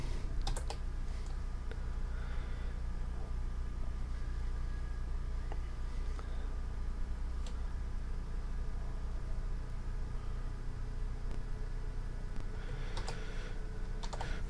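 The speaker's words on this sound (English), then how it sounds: "I am going to type some code really fast." Rapid typing of program code on a computer keyboard, a dense continuous run of close key clicks over a steady low background hum, with no voices.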